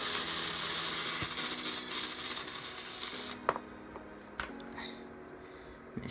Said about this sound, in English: Running out of water in the spray bottle,